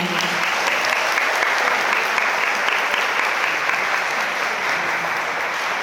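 Wedding guests in a wedding hall applaud after the bride and groom bow to each other, a loud, even, sustained burst of many hands clapping that holds steady throughout.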